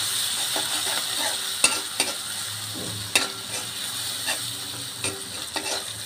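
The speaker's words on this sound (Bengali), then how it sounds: "তবে সব একসাথে ভালোভাবে একটু কষিয়ে নেব।" Small shrimp with spinach, turmeric and salt sauté in a pan, giving a continuous close sizzle broken by several sharp scraping stirs of a utensil.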